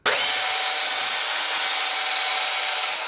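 A power drill boring a tilted hole by hand into a counterweight part for a Libreflip build starts abruptly, then holds a loud, continuous, close whirring grind with no pauses.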